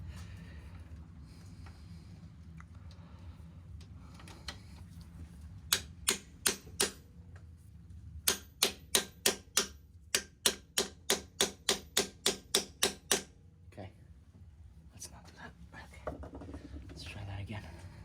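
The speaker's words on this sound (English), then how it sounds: "Where's the hammer? I gotta give this thing a beat down." A rapid series of sharp metallic hammer strikes on a stuck part of a Volvo XC70 T6 during an oil and transmission service rings out in quick bursts, close and loud, with quiet whispered talk around them.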